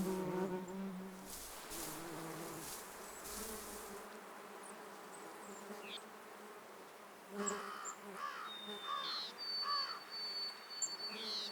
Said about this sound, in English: August flowers are buzzing with activity.